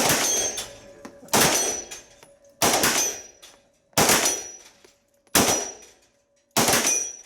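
Gunfire at a shooting competition: six sharp, loud shots about 1.3 seconds apart, each cracking hard and then ringing out in a short decay, with near silence between them.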